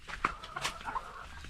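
A hen clucks near a nest holding eggs in a backyard coop, giving a few short close clucks with a brief squawk amid low farmyard background.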